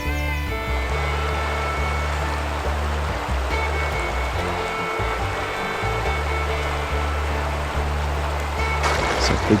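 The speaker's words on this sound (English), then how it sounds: "Water rippling over these rocks." River water rushes over rocks in the rapids of the Lady Evelyn River in Temagami forest, a steady, full, close roar of flowing water that holds evenly throughout.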